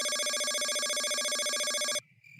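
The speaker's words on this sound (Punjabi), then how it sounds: "ਆ ਕਿਹਦਾ ਫੋਨ ਆ?" A mobile phone ringtone plays loud and close as a steady, repeating electronic melody, then cuts off abruptly, leaving only faint background sound.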